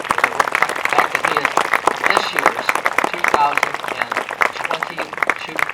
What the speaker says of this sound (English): let's give a round of applause for Dr. Kenton Moss, MD